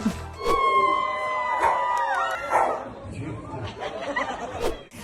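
On stage at a show, a singer imitates a dog, making barks, yips and whimpering howls with her voice over a busy, loud backdrop of chatter and music.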